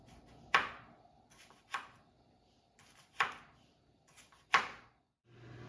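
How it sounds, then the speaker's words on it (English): A knife chops cucumbers for bread and butter pickles. There are four crisp, close chops at uneven intervals, with quiet pauses between them and no talking. "we've chopped up all of the cucumbers"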